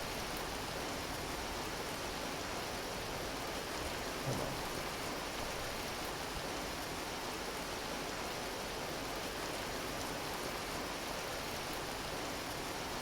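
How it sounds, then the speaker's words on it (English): Heavy rain pours down in Vintage Story, a steady dense loud hiss with a faint low rumble of thunder beneath it, and a voice speaks briefly. "It is raining"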